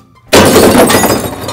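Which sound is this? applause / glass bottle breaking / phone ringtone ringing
glass bottle breaking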